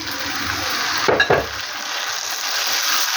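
Tomatoes dropped into a pan of frying onions for masala bhindi, a brief burst of louder sizzle and stirring over a steady background frying hiss.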